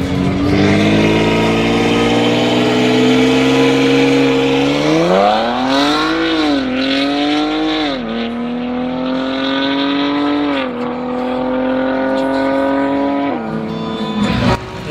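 A drag racing car's engine drones loudly on the strip at a South African cash days event, revving up and down through several gear changes, close and dominant with no talking.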